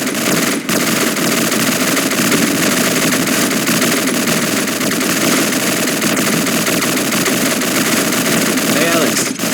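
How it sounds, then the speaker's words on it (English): Sustained rapid gunfire at a shooting range in Call of Duty 4 Modern Warfare rattles on loudly and without a break, a dense automatic chatter that fills the whole stretch. "Sounds like someone's at the shooting range."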